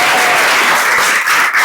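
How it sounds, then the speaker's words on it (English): A conference audience at a law forum gives a round of applause, dense continuous clapping filling the short moment, loud and close. "Please join me in giving a round of applause"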